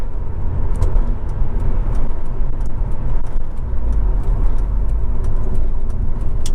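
Audi TT 1.8 T Roadster Quattro driving along, its engine and road noise forming a steady, loud rumble throughout with light rattling clicks on top, no one talking.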